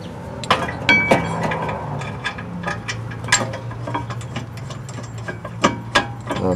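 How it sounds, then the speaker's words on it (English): A brake caliper bracket on a 1995-2003 Nissan Maxima is set back onto the rear hub: a run of close metallic clinks, clicks and knocks over a steady low hum, with no talk. "take the bracket and set it back in place"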